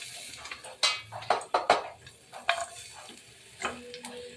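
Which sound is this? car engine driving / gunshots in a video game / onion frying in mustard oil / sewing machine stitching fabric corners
onion frying in mustard oil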